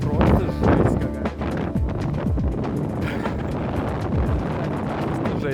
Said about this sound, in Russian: Могу сказать, что ветер страшнейший.